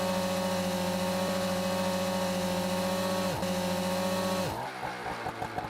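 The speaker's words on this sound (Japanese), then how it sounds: "スロットルダイヤルを始動・給水の位置にしてエンジンを始動し、真空ポンプを作動させ" Small engine of a VC72PRO III vacuum pump unit running at a steady, loud idle with strong harmonic drone, pitch dipping briefly, then winding down and stopping near the end.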